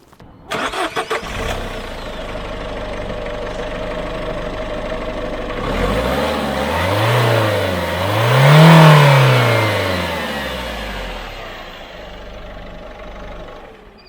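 A Peugeot 407 with a 1.6 HDI diesel engine cranks briefly, catches and settles into a close, loud idle, rising in a couple of light revs before easing back to a steady diesel clatter.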